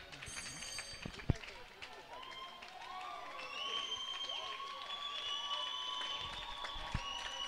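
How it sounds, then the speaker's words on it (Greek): Spectators at a women's local-league volleyball final in a gym applaud and cheer, with a faint crowd swell that builds gradually. Whistle-like tones sound above the clapping throughout. "Πολλά χειροκροτήματα."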